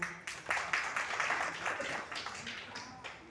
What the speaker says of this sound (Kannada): ವೀಣಾರವರಿಗೆ ಒಂದು ದೊಡ್ಡ ಚಪ್ಪಾಳೆ